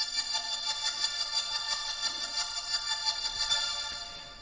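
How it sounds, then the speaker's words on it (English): Sonatina violins play high sustained notes with an LFO tool pulsing the volume in a steady rhythmic throb, a bright layered string texture alone with no voices. "This is basically the same violins playing just higher notes with an LFO tool applied to it."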